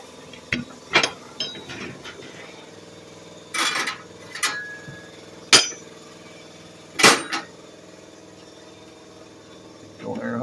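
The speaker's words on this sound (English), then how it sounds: "The old air hose works on her now." An air-powered tool driven through an old air hose works on a 1969 Ford Mustang Mach 1 rear tire on a tire changer, giving loud mechanical ratcheting bursts a few seconds apart, with some talking between them.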